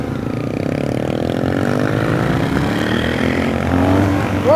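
A 2023 BMW GS 1200 motorcycle accelerates hard from a stop sign, its engine note rising steadily in pitch as it pulls through the gears, loud and close, with wind rush and no talking.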